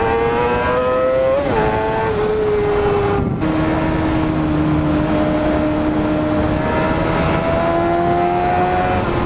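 A high-revving motorcycle engine climbs toward 20,000 RPM, a loud, close, piercing whine that rises sharply, briefly drops, then holds a steady high scream with no talking.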